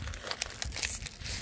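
The packaging of a Sonny Angel blind box is torn and crinkled open by hand. A quick, faint burst of rustling and crackling plastic or paper lasts about a second and a half, with no talking.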